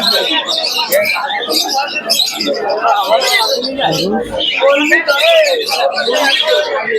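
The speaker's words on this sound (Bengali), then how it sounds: "সবই ফ্রেশ কোয়ালিটি পায়রা" Pigeons at the Krishnanagar pigeon market coo and chirp amid a crowded bazaar, their calls mixed into close, busy chatter from several people talking over them.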